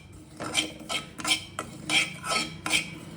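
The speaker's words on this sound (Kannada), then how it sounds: "ನೋಡಿ, ಈಗ ಗಸಗಸೆ ಹುರ್ಕೋತಾ ಇದ್ದೀನಿ. ಇದು ಡ್ರೈ ರೋಸ್ಟ್ ಮಾಡ್ಕೋಬೇಕು." Poppy seeds dry roast in a pan while being stirred, giving a rhythmic scraping and rattling. About six strokes come at a steady pace over a low background hum.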